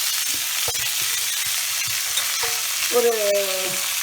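Steady, broadband sizzle of chopped siru keerai (amaranth greens) frying in hot oil, with intermittent clinks and scrapes of a spoon stirring the pan, close and continuous.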